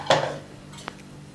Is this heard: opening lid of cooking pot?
yes